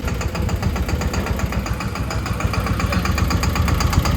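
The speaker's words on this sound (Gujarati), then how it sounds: "આપણું ટ્રેક્ટર આવી ગયું છે, એન્ટર થાય છે ભાઈ" A new Eicher mini tractor's engine runs close by with a steady, rumbling idle and a continuous mechanical knock, holding an even loudness throughout with no talking.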